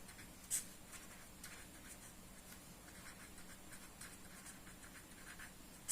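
Pen or pencil writing by hand on paper while working a geometry exercise: soft continuous scratching strokes, close and quiet, with no talk.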